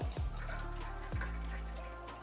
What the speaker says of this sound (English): And now we take this and pour it into the juice.